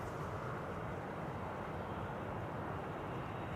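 An Airbus A320neo arriving at Schiphol, a steady broadband roar of jet engines holding evenly loud throughout the short stretch, with no voices.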